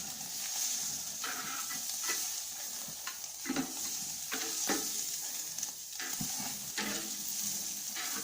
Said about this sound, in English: So now I'm ready to sear the steak for the last time.